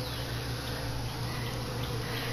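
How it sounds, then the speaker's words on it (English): Honey bees swarming inside a wall during a removal make a dense, steady buzzing drone, constant and close with no pauses. "I'm going to suck the rest of these bees up."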